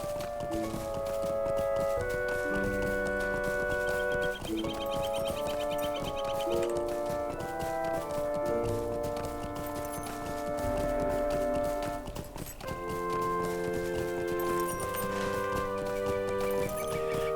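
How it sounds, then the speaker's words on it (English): Hooves of a sturdy Dunedain horse clip-clop steadily as it is ridden in Lord of the Rings Online, a continuous rhythmic trot under layered melodic background music, with no voices. "I have no other way to get there other than my sturdy horse of the Dunedain."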